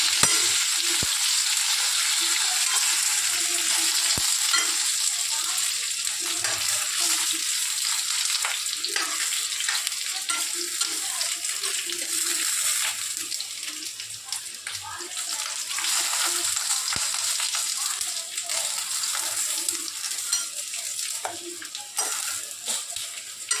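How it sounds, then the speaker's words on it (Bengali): Vegetables such as potato and papaya pieces sizzle and fry steadily in a hot pan for a Bengali fish curry, a dense continuous hiss with occasional stirring scrapes throughout. "সবজিগুলো ভাজা হয়ে গেছে"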